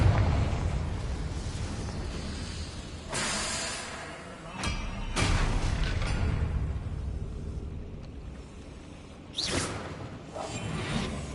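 A Confringo blasting spell fired in Hogwarts Legacy, heard as several loud whooshing bursts with booming impacts spaced across the clip over a continuous rumbling game background.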